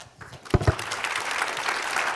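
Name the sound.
audience applause for panelists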